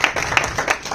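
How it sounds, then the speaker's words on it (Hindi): Audience clapping at an Urdu poetry evening in Dallas, a brief burst of scattered hand claps from a small crowd, close and moderately loud. "एक ताली हसनी भाई के लिए भी।"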